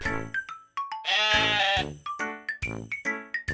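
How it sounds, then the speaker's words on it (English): A sheep bleats several times in short, wavering calls with pauses between them, one call longer and more drawn out, close and clear with no talking over it. "Sheep."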